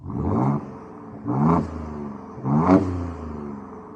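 A 2023 Ford Ranger Raptor engine revs three times in quick bursts, each a loud, rising mechanical roar that drops off, close and alone with short quiet gaps between.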